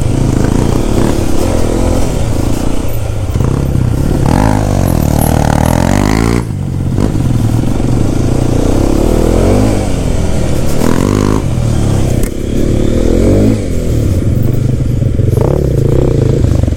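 A Hero Xpulse 210 motorcycle rides off-road, the engine loud and close, revving and dropping repeatedly as the bike clatters over rough ground, with no talking.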